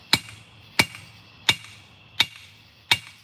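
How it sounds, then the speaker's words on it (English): Five sharp, evenly spaced metallic strikes from a farrier hammer hitting metal at a forge, each ringing briefly over a low steady background hum, close and fairly loud with no talking. "I just love the Farrier hammers. I think they work well."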